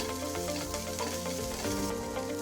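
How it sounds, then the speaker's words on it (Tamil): A small chopped onion sizzles steadily in a hot pan, cooking for a beans paruppu usili, with a continuous close frying crackle over a faint tonal hum. "ஒரு சின்ன வெங்காயத்தை குட்டியாக அரிஞ்சு வச்சுருக்கேன், அதை நான் இதில் சேர்த்துக்கிறேன்."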